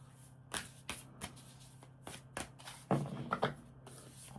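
A deck of tarot cards is shuffled by hand in a series of short riffling bursts, with a busier, denser stretch near the end. The sound is close and fairly quiet, with no talking.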